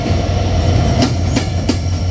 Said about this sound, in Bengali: অপর দিক থেকেই আরও একটি ট্রেন প্রবেশ করতে দেখলাম, যেটা পঞ্চগড় থেকে ছেড়ে আসা ঢাকাগামী আন্তনগর একতা এক্সপ্রেস